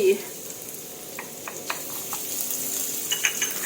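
Garlic and coriander root stir-frying in hot oil for shrimp with chili and salt, a steady soft sizzle with a few scraping stirs of the pan, close and moderate, no talking.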